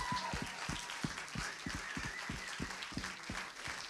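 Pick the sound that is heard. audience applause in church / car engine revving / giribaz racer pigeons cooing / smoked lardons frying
audience applause in church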